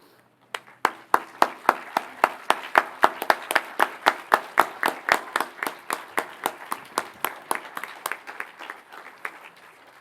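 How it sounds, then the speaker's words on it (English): Sharp, evenly spaced claps ring out at a 2015 high school graduation, a steady rhythmic beat of a few hands in near unison that starts strong and gradually softens as the clapping continues. "please rise to applaud Stephanie's accomplishments as she makes her way to the podium"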